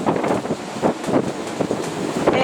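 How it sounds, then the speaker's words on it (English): Strong gusts buffet a boat crossing Cook Strait, roaring in uneven surges close to the microphone with wind rumble throughout, no voices. "It is very gusty."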